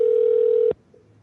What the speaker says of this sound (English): Sorry for the call. We're trying to reach Kevin via phone because it's not picking up via Skype